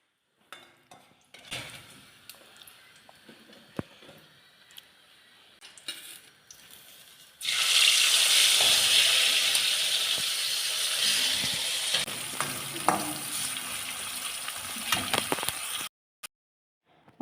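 Bitter gourd frying in a pan in a home village kitchen, a loud steady sizzle that bursts in partway through after quieter clinking and shuffling, then continues strongly before cutting off near the end.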